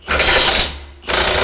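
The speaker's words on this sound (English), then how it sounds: "I get to use my big half-inch drive electric impact." Half-inch drive electric impact wrench working on a Ford 8.8 rear differential, two loud close hammering bursts separated by a brief pause.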